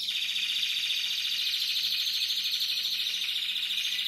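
A bird sings a rapid, high, trilling song, continuous and fairly close, with a faint low hum underneath.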